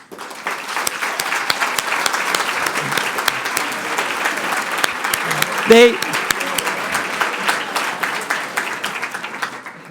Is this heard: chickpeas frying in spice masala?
no